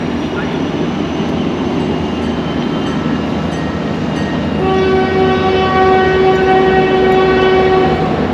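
Sky Railway train in Santa Fe rolling past with a loud rumble, then a long sustained horn blast sounds in the second half, close and prominent.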